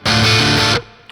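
Overdriven channel of a Squier Telecaster electric guitar with a little reverb: one loud, dense distorted chord held for most of a second, then cut off into a short reverb tail.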